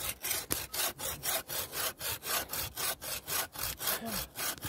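An old hand saw cuts through hardwood with fast, even rhythmic strokes, about three or four per second, each a rasping push-pull heard close and clear.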